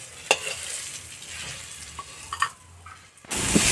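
Onion and chili go into oil left from frying bori, giving a low sizzle with a few utensil taps, then a louder burst of frying near the end, close with no talking.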